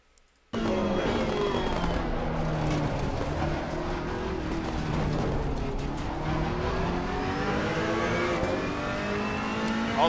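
Ferrari 488 EVO GT3 race car in Assetto Corsa Competizione, its engine starting abruptly then revving loud and steady with rising and falling pitch as it accelerates through gears, continuous and close throughout.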